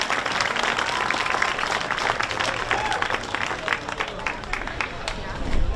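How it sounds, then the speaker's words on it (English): Crowd at a junior livestock show applauds five young exhibitors, steady clapping with a murmur of voices running under it throughout, swelling slightly near the end. "Let's give all 5 of these kids a nice round of applause."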